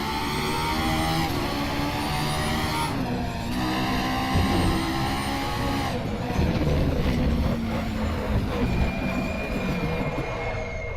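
Racing car engine in RaceRoom Racing Experience during an open-lobby online race, a loud continuous whine that climbs in pitch through the gears with shifts and revs, occasional tire skids, and no voices.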